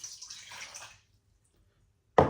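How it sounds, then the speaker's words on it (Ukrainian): Warm water splashes and pours into a bowl for about a second while making belyashi dough, then silence until a sudden loud knock at the very end. "вливаємо в міску"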